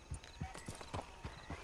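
Horse hooves clip-clop in a steady walking rhythm in Red Dead Redemption 2, several close, distinct footfalls with no talking over them.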